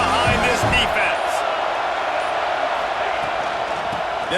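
A stadium crowd roars continuously in the EA Sports College Football 26 video game on a big third down, a loud, dense wash of cheering behind a commentator's voice.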